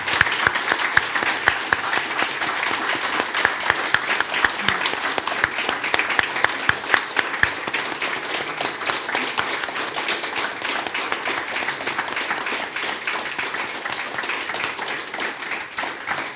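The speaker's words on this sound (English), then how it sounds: "Yeah, then I take this as the final applause." An audience at an art talk gives its final applause, a long, loud, even patter of many hands with a few sharper individual claps standing out, sustained steadily to the end.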